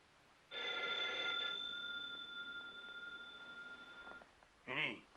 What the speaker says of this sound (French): Ellie, téléphone, Ellie.